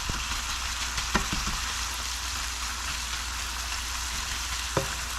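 Food sizzles steadily in a pan on a farm kitchen stove, a constant bright frying hiss with a couple of sharp clinks of utensil contact against the pan.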